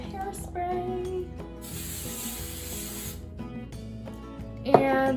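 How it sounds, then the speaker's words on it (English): A hissing hairspray aerosol bursts out in a couple of short blasts, close by, over a faint background hum. "now, I'm going to spray it with some hairspray."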